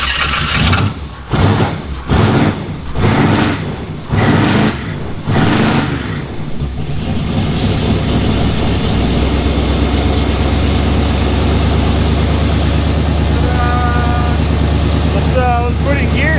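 Off-road truck with a 315 engine running as a V7: loud, rough revs in rhythmic bursts that settle into a steady, heavy idle drone.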